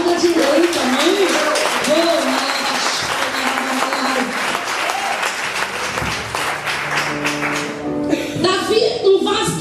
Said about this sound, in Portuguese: Já que vocês ensaiaram aplaudir o Senhor, aplauda de novo também.